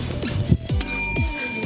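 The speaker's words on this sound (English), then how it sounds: "Something about the adrenaline of dinging the bell." Quick bright dings of a quiz buzzer bell at a high-stakes trivia match, several short metallic strikes in a row with ringing overtones over a busy background.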